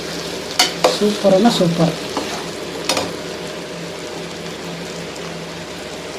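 Onion frying in a pan for spicy egg pulao, a burst of stirring scrapes and spatula knocks over a steady sizzle, then quieter sizzling, with a brief spoken remark.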